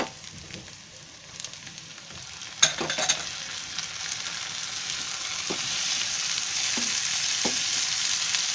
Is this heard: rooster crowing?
no